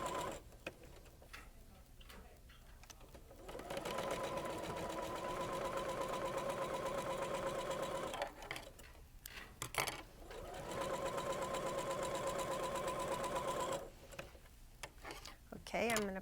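A home sewing machine stitches quilt block pieces for a pinwheel swirl block, running in two long steady whirring bursts with rhythmic ticking, separated by pauses with handling noises, while a person talks intermittently.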